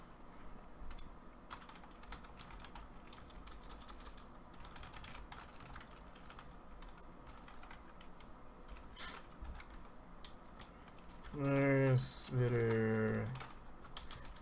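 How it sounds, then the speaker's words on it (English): Rapid typing clatters on a computer keyboard in irregular bursts of light clicks at close range, and a voice speaks briefly near the end. "I'm just typing."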